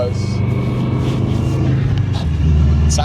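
A Subaru WRX engine runs rough, giving a loud, uneven low rumble that swells near the end, heard from inside the moving car.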